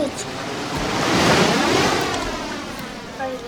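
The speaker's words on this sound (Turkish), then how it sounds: "Bu dalgayı bir daha atar mı acaba?" Tsunami wave from the Roblox game Escape Tsunami For Brainrots, a loud broad rushing crash of water that swells to a peak and slowly eases, heard alone without talk.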